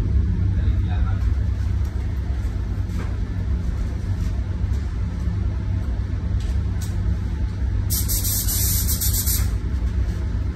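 Spray gun laying down silver car paint: a loud, continuous rushing hiss runs without a break over a low rumble, with a brighter burst of spray near the end.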